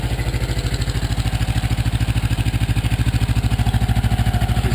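A 1984 Yamaha Maxim 400 motorcycle engine idling steadily around 1400 RPM, its even, rapid pulsing loud and close with a slight mechanical clatter on top, with no voices.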